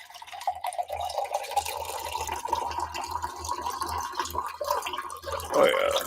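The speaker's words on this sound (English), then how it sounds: "Let me pour some Boston tea." Tea is poured into a cup as a thin, continuous trickle of liquid lasting several seconds, fairly close, ending with a brief splash of fuller pouring, with no talking over it.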